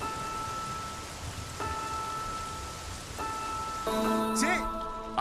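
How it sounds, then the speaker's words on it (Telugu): Steady rain patters in the background as a continuous wash, with music tones and a voice entering near the end. "వర్షం తగ్గిన తర్వాత వెళ్ళు."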